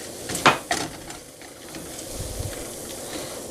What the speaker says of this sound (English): Then I'm going to add the bacon, get the last of that oil out of there.